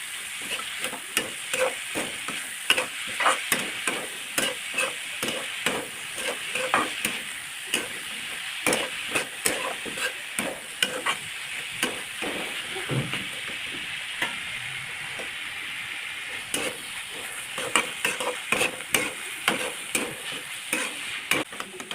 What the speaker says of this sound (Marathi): कांद्याची पात चांगली भुजायची।